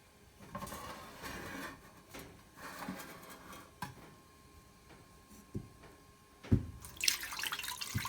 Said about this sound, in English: So I am going to add the water into the pan.